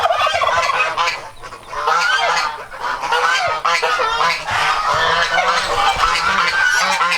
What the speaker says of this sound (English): all the geese are right in this area